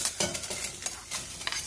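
Chopped onions cooking in a dry pan with no oil, with brisk stirring scrapes and light sizzling in a quick uneven rhythm, close and fairly quiet.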